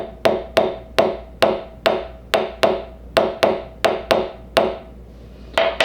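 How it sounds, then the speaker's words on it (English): A hammer strikes a punch driving a pin from a Sig Sauer P365 pistol about a dozen times in a steady rhythm, each sharp, ringing tap close and loud, with a brief pause before the last few. "Get our trusty hammer to get this started."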